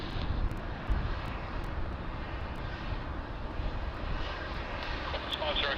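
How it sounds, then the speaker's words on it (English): A jet aircraft takes off at Sydney Airport, its engines a steady, loud, broadband roar that holds constant throughout, heard from a distance with faint voices in the background. "C404, cleared for takeoff."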